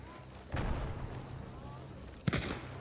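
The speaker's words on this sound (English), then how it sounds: "for the first time today, I'm going to use a grenade" Two muffled booms from grenade blasts in an online battle-royale shooter, one about half a second in and a sharper one near the end, set against low game rumble.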